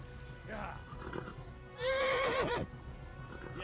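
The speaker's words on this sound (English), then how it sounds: "Is the horse injured, like, too badly or something like that?" Horse in the game Kingdom Come: Deliverance whinnying once, a loud close neigh of under a second following faint clip-clop and rustle, with a few quiet muffled voices around it.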